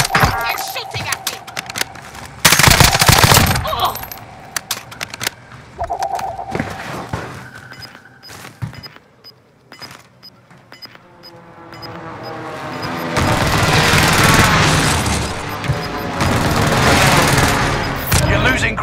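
Automatic gunfire and bursts of shots in Call of Duty Warzone Rebirth on PS5, loud and repeated, with thumps, game effects and a dense, roaring firefight in the closing seconds.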